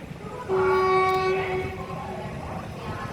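A locomotive horn sounds loudly for about a second, then a train rumbles steadily close by in an open rail yard by the engine shed at Vijayawada railway junction.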